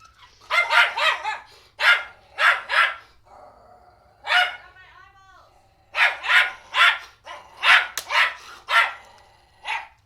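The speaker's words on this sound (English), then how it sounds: "Now the dog wants Look at him. eggs. He's so mad." A dog named Parm barking loudly and insistently in clusters of rapid, close barks, with brief whiny yips in a pause and a low hum underneath.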